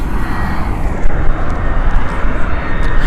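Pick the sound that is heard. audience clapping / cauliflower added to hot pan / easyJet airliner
easyJet airliner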